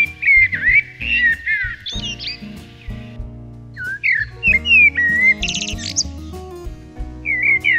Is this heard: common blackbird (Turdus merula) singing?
yes